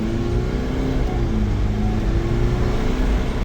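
A Mercedes C-Class with boost and turbo faults accelerating on a test drive, its engine drone steady and loud throughout from inside the car, with no talking.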